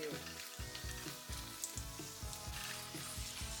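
Biryani ingredients fry gently in ghee and oil over a low flame, giving a soft continuous sizzle broken by repeated low scraping stirs in a roughly regular rhythm, close and quiet with no voices.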